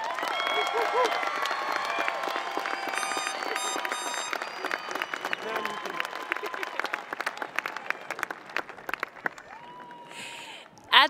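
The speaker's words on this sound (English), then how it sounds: "So please give them a round of applause." Applause and cheering from families and guests at a high school graduation ceremony, a dense crowd sound heard under voices that slowly thins out toward the end.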